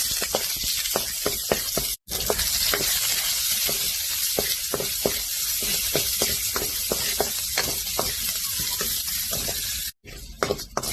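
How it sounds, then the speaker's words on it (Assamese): Chopped onions fry in oil with five-spice seasoning for a dal, giving a loud, continuous close sizzle with frequent crackling pops and two brief breaks. "দালিখিনি তেল মাৰিবৰ কাৰণে পিঁয়াজ খিনি ধুনীয়াকৈ ভাজি হৈ গ'ল।"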